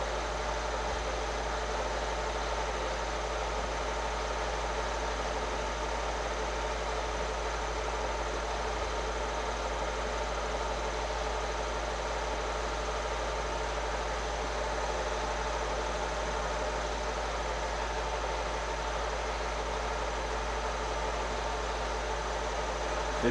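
Evinrude outboard engine on a homebuilt 1968 hydroplane, droning steadily and continuously at close range with a flat, noisy hum and no pauses or talk.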